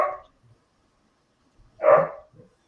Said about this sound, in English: We got a mean dog barking away.